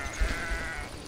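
A sheep in Minecraft gives a single short bleat, moderately loud against steady background noise, with no talking.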